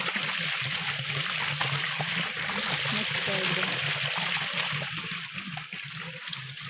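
River water rushes and flows continuously, a broad steady wash of sound, with a brief spoken word barely audible beneath it.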